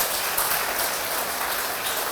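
A church congregation at a Spanish-language service claps together in a continuous, moderately loud patter of applause that stays even throughout, with no talking.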